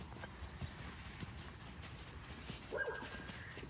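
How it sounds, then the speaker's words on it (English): A horse cantering in a dressage training session, its hooves drumming a steady rolling rhythm that stays faint and distant under a constant wash of outdoor noise. "Nice big canter there."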